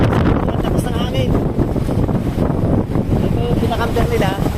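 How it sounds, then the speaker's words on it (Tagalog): Strong wind roars steadily across the microphone at sea on a small boat, a dense constant rush with people talking over it. "ang lakas ng hangin."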